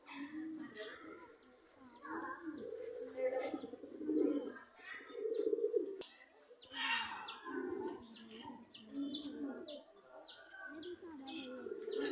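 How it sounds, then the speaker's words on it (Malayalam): Several pigeons of varied breeds coo in low, rolling bursts nearby at a farm while many small birds chirp rapidly and continuously above them. "നമുക്ക് വെറൈറ്റി പ്രാവുകളെയും ചെറിയ കിളികളൊക്കെ കാണാം"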